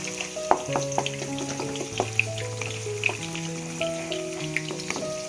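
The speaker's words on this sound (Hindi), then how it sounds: "ये भी जोर शोर से पक रहा है" Gravy bubbles and sizzles steadily in a pan, with scattered pops and spits over a constant hiss, close by and moderately loud.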